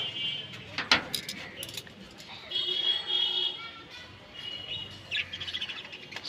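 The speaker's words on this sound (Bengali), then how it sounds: "এই যে আমাদের কলোনির পাখিগুলো।" Pet birds in an outdoor bird colony chirp and twitter softly in short scattered calls, faint against quiet ambient noise, with a sharp jangling click near the start.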